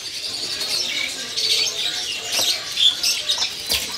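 A Cucak Jenggot Jawa songbird calls inside a bird kiosk, giving bright repeated chirps and short trills at close range alongside other birdsong, with no talking.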